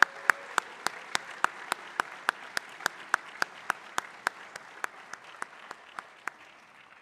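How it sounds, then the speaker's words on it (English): An audience at a school Academy Theater performance gives a sparse round of applause: slow, evenly spaced individual claps that fade a little toward the end, with no talking. "let's give our Academy Theater a nice round of applause."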